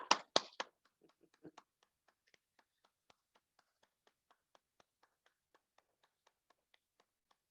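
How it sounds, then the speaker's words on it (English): A few strong hand claps at the start, then a long series of soft, steady, regularly spaced claps fading to quiet taps during a Kundalini yoga session. "You're applauding to yourself."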